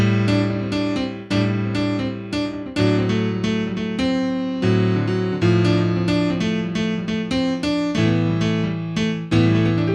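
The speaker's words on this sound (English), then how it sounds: "Halfway through the song, listen for a piano solo that sounds like this." A solo piano plays a lively passage of repeated chords and melody notes in a steady rhythm, bright and clear with no voices.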